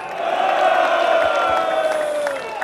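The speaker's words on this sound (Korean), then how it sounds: "우리 멋진 연설해 주신 우리 고영조 변호사님께 뜨거운 함성을 보내주시기 바랍니다." A crowd at a Korean War anniversary patriotic culture festival roars with loud sustained cheering and shouting for a lawyer who has just finished a speech, a dense wall of voices for nearly three seconds.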